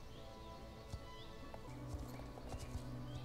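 A horse's hooves clip-clop in a steady trotting rhythm inside a video game, moderately loud over a constant background hum.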